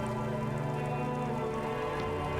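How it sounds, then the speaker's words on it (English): Steady rain in a video game, falling in sheets over a ruined, half-sunken sea fort in a shivering city, a dense continuous hiss with a low musical drone underneath throughout. "Rain falls down on the world."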